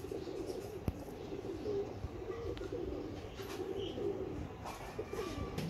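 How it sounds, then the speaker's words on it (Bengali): Army breed pigeons cooing softly in a loft, low repeated throaty coos over a steady background murmur, with a faint chirp or two and no talking. "এখন আপনাদেরকে যে কবুতরগুলো দেখাবো"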